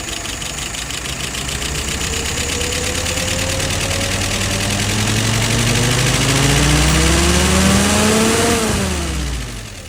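An engine fitted with a freshly adjusted Carter WO carburetor runs close by and revs up smoothly in a long rising sweep, then drops back as the throttle eases off.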